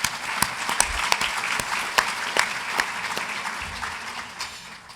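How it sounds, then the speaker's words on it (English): An audience at the 2025 Celebrating Women in Conservation breakfast applauds the event sponsors with a burst of scattered, lively clapping that stays fairly close and steady, then thins out toward the end. "we might do a clap for both those 2 sponsors"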